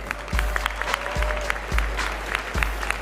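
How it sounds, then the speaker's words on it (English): An audience gives a round of applause for the judges at the 63rd Miss Universe preliminary competition, a steady wash of clapping across the whole span with a few deep thumps underneath. "All right, let's give another round of applause for all of our judges here this evening."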